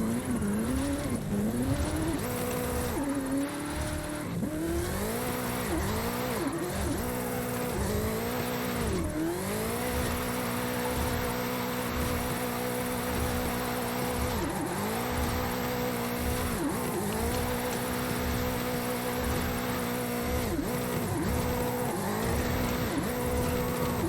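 A car drifting downhill in Forza Horizon 5, drift club event in Mexico, its engine repeatedly revving up and dropping as it slides through corners, with rough tire noise under a steady loud roar.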